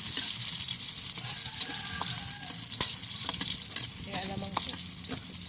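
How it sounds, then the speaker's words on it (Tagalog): Garlic and onion sauté in a pan with a constant, close sizzle and crackle. Light scraping and clinks from stirring recur through it. "gigisa na po natin ng bawang"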